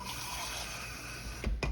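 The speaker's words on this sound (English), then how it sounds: "I'm going to put a little bit more water in here in the bottom" Water poured into the bottom of a pan holding a honey barbecue Boston butt in an oven, a soft steady splashing that ends in a couple of sharper clatters.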